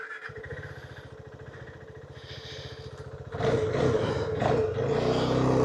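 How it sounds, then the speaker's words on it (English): A 2021 KTM 390 Adventure single-cylinder motorcycle idles with a steady, clattery engine pulse, then the revs rise sharply midway into a louder, rougher roar held close to the microphone. "the engine on this machine sounds so much more clunky than that of the new machine"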